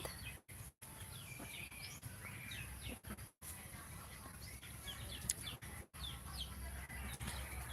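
Chickens cluck and call in a rural provincial yard, scattered bursts over steady outdoor background noise with occasional brief gaps, moderately faint and without speech.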